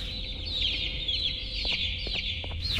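Opila and Tarta, the chick characters in Garten of Banban 4, give bright, rapid hen-like clucks. A steady chattering call runs alone, with several sharper clucks near the end.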